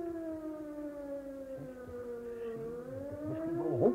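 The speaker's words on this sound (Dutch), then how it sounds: "Daar gaat die sirene voor de tweede keer." An air raid siren wails steadily in a wartime radio drama, a sustained rising and falling tone heard at a distance, sounding alone for several seconds.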